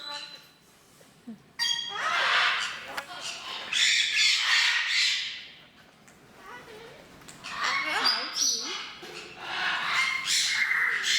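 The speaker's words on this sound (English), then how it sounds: "this is a newer bird here" A pet bird in an aviary squawks loudly and repeatedly in harsh, ragged bursts that fill most of the stretch, with short pauses between calls.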